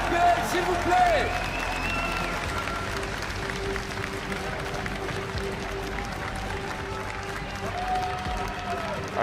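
A large audience at the 2015 World Championship opening ceremony applauds the LPL teams in steady, dense clapping and crowd noise that fills the arena throughout, with an announcer talking over it.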